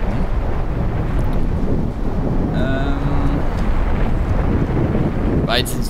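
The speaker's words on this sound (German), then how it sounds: "War jetzt ein super Sturm." A storm roars through the wasteland in the video game Fallout New Vegas, a loud continuous wind-like rush with low rumbling, briefly joined by a faint tonal whistle.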